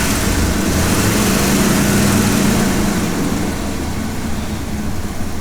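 A Ford E-350 Econoline van engine with a lean P0171/P0174 condition, revved up then settling, a steady loud droning hum with a brief rise in pitch and no speech.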